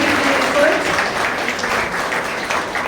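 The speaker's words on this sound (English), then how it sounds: "one round of applause for all the students who have been doing their efforts" Steady applause from a gathered audience for students at a Teachers' Day celebration, a dense even wash of clapping lasting throughout at moderate loudness, with a voice faintly mixed in.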